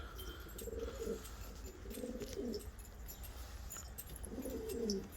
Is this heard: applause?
no